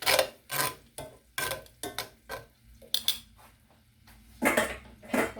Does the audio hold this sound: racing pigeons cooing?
no